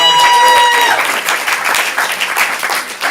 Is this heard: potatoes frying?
no